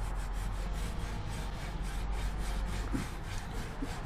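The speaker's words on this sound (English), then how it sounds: "I just put wood glue in there, rub it in, work it in all the cracks" Wood glue and end grain shavings are worked by hand into cracks in a black walnut urn, giving a steady close rubbing and scraping texture with faint scratchy strokes.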